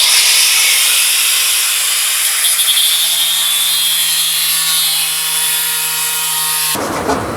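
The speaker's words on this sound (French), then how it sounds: "Alors comment tu découpes le carbone? Disqueuse." An angle grinder cuts carbon fibre during custom motorcycle bodywork, producing a loud, continuous, harsh abrasive hiss with a steady high whine, close up and uninterrupted, with no talking.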